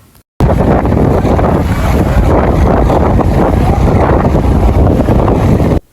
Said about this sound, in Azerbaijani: Eləcə külək əsirdi, heç də yaxşı deyil bu.